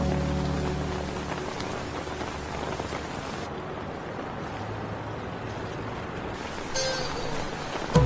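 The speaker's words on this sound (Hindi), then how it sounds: "मुझे पता है बारिश हो रही है" Steady rain pours down outdoors, a dense continuous patter on surfaces that stays even and fairly close throughout, with no voices.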